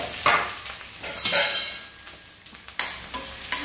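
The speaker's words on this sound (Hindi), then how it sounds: "इसे हम तेल में छोड़ दें, तेल अच्छी तरह एकदम" Green dry peas sizzle and fry in hot oil in a pan for a curry, a loud, close hiss with bursts of crackling and stirring scrapes that swell and fade, with no voices.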